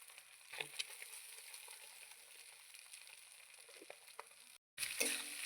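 Leftover rice fries with scrambled egg in hot oil, a quiet crackling sizzle with small pops and stirring scrapes, briefly cutting out before returning slightly louder.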